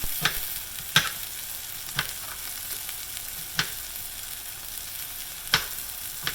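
Onion frying in a pan for Cuban black beans with chicken, a continuous close sizzle broken by several sharp scraping stir strokes at irregular intervals, no talk.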